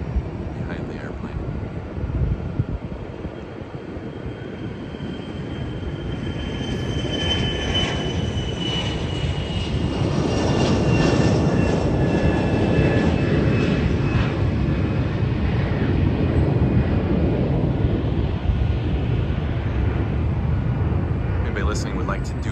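Airplane jet engines roar at San Diego airport near terminals 1 and 2, a loud, sustained whine that builds and stays strong throughout, with talking over it.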